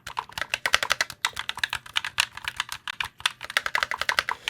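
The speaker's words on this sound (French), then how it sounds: "Ce sont des switches linéaires ultra réactifs, donc ça reste un clavier sympa" A full-size gaming keyboard with linear switches is typed on in a steady, fast run of close, crisp keystrokes, fairly loud and uninterrupted, with no voice over them.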